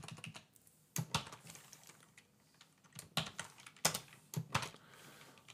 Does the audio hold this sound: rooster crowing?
no